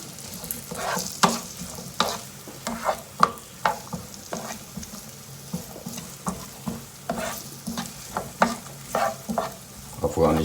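Potatoes and onions fry in hot oil for an Afghani breakfast, a steady close sizzle punctuated by a dozen or so rhythmic scraping stirs against the pan, no talking.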